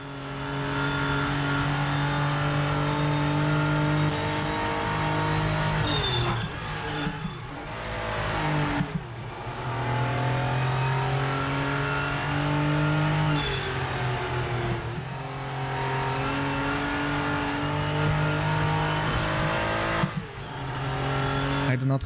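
Heavy Porsche engine in a driving video game, a loud, continuous mid-pitched drone that rises and falls with acceleration and gear changes, with brief dips and scrapes, and a voice talking at times over it.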